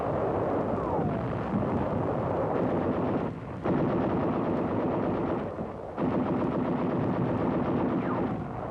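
WWII newsreel battle audio from Manila street fighting near Intramuros, with 37mm anti-tank guns giving covering fire. Dense, continuous bursts of gunfire and rumbling blasts play loudly throughout, dipping in a couple of short gaps.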